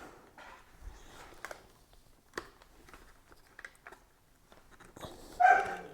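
A dog barks a few times nearby during a helmet chin-mount install, short scattered barks with a louder burst near the end, set against quiet room noise.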